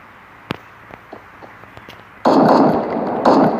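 Rapid bursts of gunfire in the mobile battle royale game Free Fire, heavy and loud, starting after sparse isolated pops and continuing as dense sustained shooting with a brief dip.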